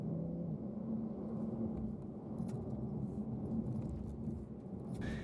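Porsche 911 (2019) weaving through a slalom test course, its steady engine hum and tire-on-asphalt roar holding level throughout, with no one talking.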